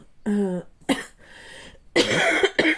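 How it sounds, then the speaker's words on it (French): Several close, harsh coughs in separate bursts, with a throat-clearing rasp between them, loud and near. "c'est bon, j'arrête de tousser"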